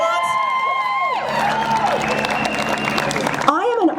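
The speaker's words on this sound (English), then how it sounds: "I want to hear some applause if you feel the same way" Outdoor protest crowd at a Christmas freedom rally in El Cajon applauding, cheering and whooping loudly throughout, with a voice rising over the crowd near the start and again at the end.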